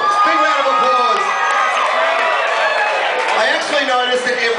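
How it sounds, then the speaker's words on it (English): A crowd at a bikini challenge event cheers, whoops and shouts loudly and continuously for judge Wayne Daniel, with voices blended in a dense wall of noise. "It is Wayne Daniel. Big round of applause."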